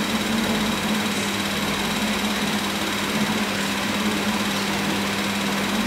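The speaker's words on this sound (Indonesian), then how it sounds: "Dengar bunyi kipas angin" A steady electric fan whirs on without pause, its broad, constant drone holding an even hum under a quiet room with no voices.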